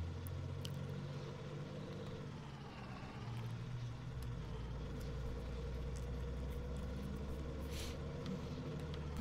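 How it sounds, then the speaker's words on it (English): Engine of a Chevy Duramax pickup truck in Farming Simulator 19, running rough and unhealthy, drones steadily with a heavy low rumble as it drives down a dirt path, loud and continuous with no talk. "Come roaring down here with the pickup."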